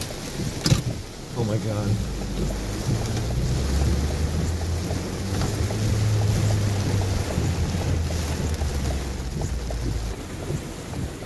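A car pushes through deep flood water during heavy rain, a continuous low rumbling wash of water and engine with rain noise across the whole span; a person briefly exclaims near the start.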